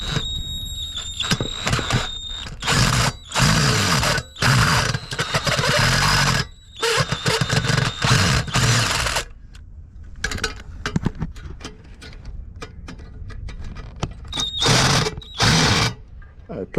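Screws being backed out of the mounting plate of a Harbor Breeze black outdoor wall light with a power driver, in repeated short whirring bursts separated by pauses and clicks.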